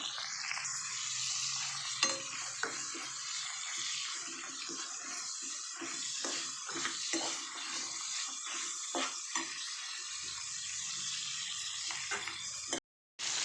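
Cinnamon, cloves, cardamom, 7-8 garlic cloves and ginger frying in about five spoons of oil in a pan: a continuous, close sizzling hiss with faint stirring scrapes, cutting out briefly near the end.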